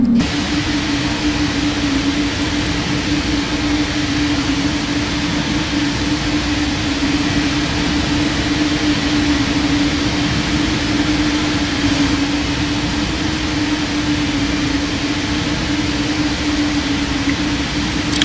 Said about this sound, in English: But that engine, that's a weird sound.